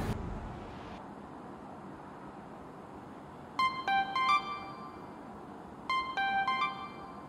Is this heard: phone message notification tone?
yes